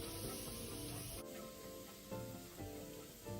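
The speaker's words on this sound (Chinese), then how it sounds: "再将红葱末倒入爆香，一直油爆至葱末转金黄色" Chopped shallots frying in hot oil in a wok over medium heat, a soft steady sizzle with faint stirring scrapes, quiet and close.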